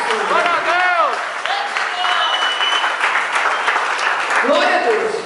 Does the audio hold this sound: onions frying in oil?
no